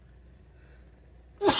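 After a quiet pause comes a single sharp sneeze, loud and close, from someone cooking with curry powder.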